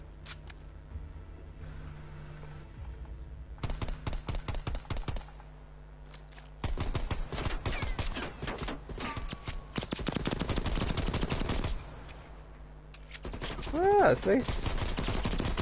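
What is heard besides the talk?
gunfire in video game Call of Duty Cold War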